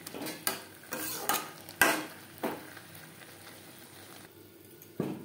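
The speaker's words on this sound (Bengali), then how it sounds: "মশলার সাথে আলু কষাবো মিডিয়াম ফ্লেমে" Potatoes are stirred with spices in a pan over a medium flame for a fish egg curry, with irregular spoon knocks and scrapes against the pan over a faint sizzle.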